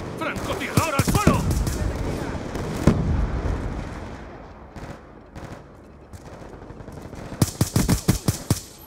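Rapid gunfire and explosions in Call of Duty Black Ops 2 on the Nuketown map with a FAL rifle, loud bursts early and late around a quieter middle, with game voice callouts in Spanish.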